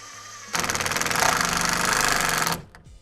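A power driver with a square drive bit whirs and rattles as it drives a screw into a pre-drilled garden step strut, one continuous burst of about two seconds that stops abruptly, close.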